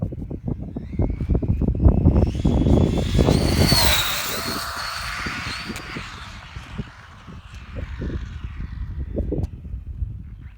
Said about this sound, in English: let's go ahead and do a pass, guys. Easing on the throttle.